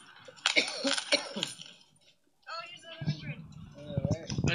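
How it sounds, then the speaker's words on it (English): A few harsh coughs and throat-clearing bursts close to the mic, followed by a pause and then muffled voices talking. "My dad's like all just coughing,"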